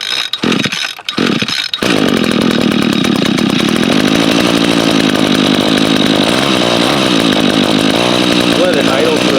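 An Echo string trimmer with an I-30 spring-assisted starter is pulled over; after a couple of short pull-cord tugs the small two-stroke engine catches at about two seconds and runs loud and steady, close to the microphone.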